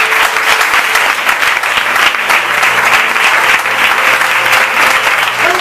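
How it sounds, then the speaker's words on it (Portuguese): A church congregation breaks into sustained, loud applause for Jesus during a sermon, steady dense clapping filling the space without a break. "Dá uma salva de palmas ao Senhor Jesus."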